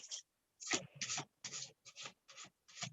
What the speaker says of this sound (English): Let me start shuffling while we're here talking.